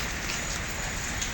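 Steady rain pours down in Dubai after a night-long downpour, a dense, even hiss of drops hitting the ground with no voices.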